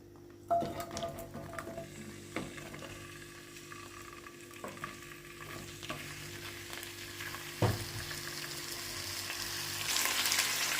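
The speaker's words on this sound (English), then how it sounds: "Okay, let's add oil in the pan or pot, anything you're using for your cooking. Okay guys, and I'm gonna go ahead and add my potatoes." Potatoes frying in oil in a pan give a soft, steady sizzle that grows gradually louder, with a few sharp clinks and stirring scrapes along the way.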